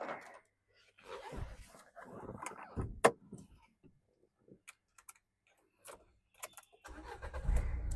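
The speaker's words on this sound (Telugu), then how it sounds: "సింగిల్ సెల్ఫ్లో బండి స్టార్ట్ అవుతుంది సార్." A 2017 Renault Duster RXZ 85PS diesel SUV cranks and catches on the first try near the end, after a stretch of scattered clicks and voices, then settles into a low, close diesel rumble.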